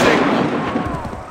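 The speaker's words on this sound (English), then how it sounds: "Fire now!" A short, loud burst of volley gunfire in Assassin's Creed 3, a dense crackling blast that fades with rumbling echo over about a second.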